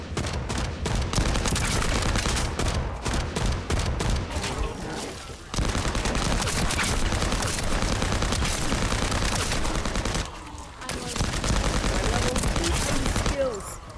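Rapid pistol fire in the video game The First Descendant, dense loud bursts of shots that break off briefly and resume, with faint talk underneath.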